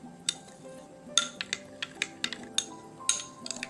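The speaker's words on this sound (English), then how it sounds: "Add 2 tablespoons of black chia seeds and stir it." Black chia seeds stirred into a bowl with a spoon, giving a run of light metallic clinks and scrapes against the bowl at an irregular rhythm, close and fairly quiet with no talking.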